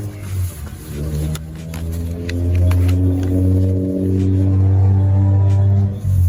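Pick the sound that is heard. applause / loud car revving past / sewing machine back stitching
loud car revving past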